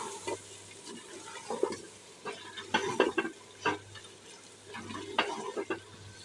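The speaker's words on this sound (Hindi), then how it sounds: "अभी इसमें डालते हैं चिकन, और चिकन को भूनेंगे इसमें।" Chicken fries in masala while being stirred, with repeated scraping and clattering strokes over a low sizzle, near and moderately loud, no speech.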